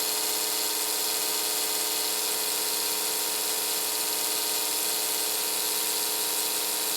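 A Lionel OO scale electric locomotive motor runs on the bench at around 7 volts after an E-unit adjustment, giving a loud, steady buzzing whine that holds unchanged throughout.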